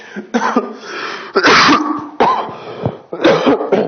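A person coughs hard several times in a row, harsh and close, with brief throat-clearing rasps between the bursts.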